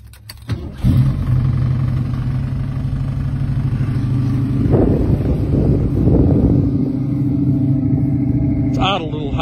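A cold 1972 Ford Mustang starts up close by and settles into a steady, loud idle with the choke still on, a few brief revs rising through the rumble near the middle before it runs on evenly.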